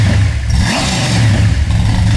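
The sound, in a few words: blown 496 big block Chevy engine revving with Thrush mufflers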